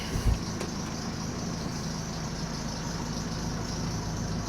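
A 2004 Jeep Cherokee idles and pulls away, a steady low engine drone holding at an even level throughout, with a brief thump near the start.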